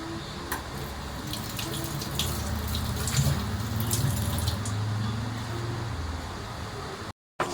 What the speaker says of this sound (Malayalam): ഇതിൻ്റെ അകത്ത് നമ്മളിങ്ങനെ കുറച്ച് വെള്ളം ഒഴിക്കാം. 1 ഗ്ലാസ് വെള്ളം ഒഴിക്കാം.